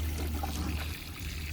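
Water pours steadily onto a newly planted windmill palm set in garden soil with fertilizer, a continuous close trickle and splash under a low background hum.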